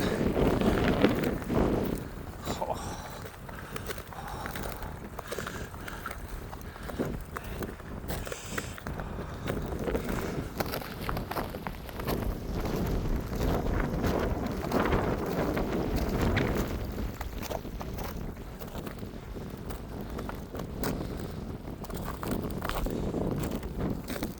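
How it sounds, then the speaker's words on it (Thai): Strong wind on a glacier in Pakistan roars and buffets the microphone in continuous gusts, mixed with faint crunching footsteps on snow and ice. "ลมแรง ๆเนี่ยฮะ"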